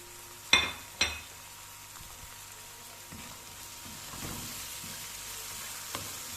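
Tomatoes drop into a hot pan for stuffed egg curry, opening with two sharp clattering hits followed by a soft, steady sizzle and a few light clinks, close and fairly quiet.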